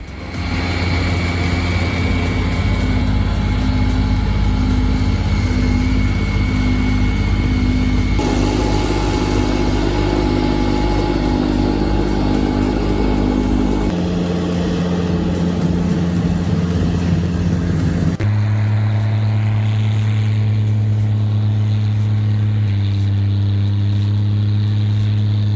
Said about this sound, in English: In zero visibility conditions, a John Deere X758 keeps moving. Steady throttle, tight control.